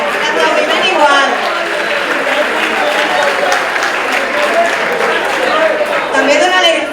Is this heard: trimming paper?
no